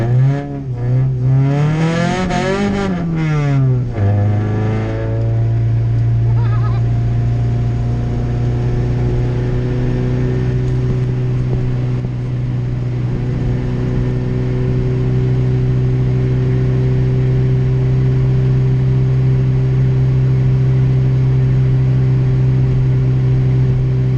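A Honda CRX with an LS gearbox pulling hard: the engine climbs sharply through a high rev sweep, drops briefly at a shift, then holds a loud, steady droning note at speed, close and without talk.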